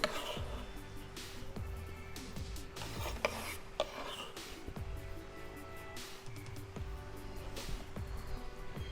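A kitchen knife cuts chicken into small pieces on a board for a chicken burrito, giving repeated soft, evenly spaced strokes under a steady background hum.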